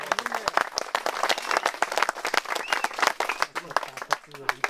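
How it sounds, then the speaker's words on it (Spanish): An audience at a community event in San Joaquín clapping in a loose, uneven burst, close and moderately loud, with voices talking over the applause. "Aplauso para... Aplauso."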